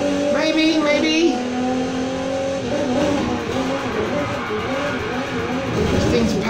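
A 2019 Aston Martin DB11 Volante in Need for Speed Heat roars loud and steady under acceleration, engine pitch climbing and dipping through gear changes, with tire squeal and a voice talking over it.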